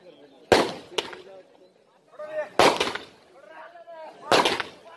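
Firecrackers go off at a final kabaddi match in Jaipur, with four sharp, loud bangs spaced a second or more apart and people talking between them.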